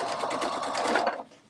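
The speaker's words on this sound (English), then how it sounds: "So I'm going to start here at the top and sew this down." Sewing machine stitching denim for a hobo bag, a quick rapid mechanical whir running steadily for just over a second before stopping, close and fairly quiet.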